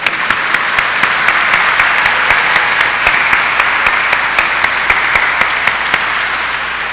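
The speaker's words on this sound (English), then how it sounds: "I'm going to clap, and I think everybody should" Audience applause fills a graduation ceremony hall, a steady dense wash of many hands clapping with sharper individual claps standing out, loud and sustained throughout without speech.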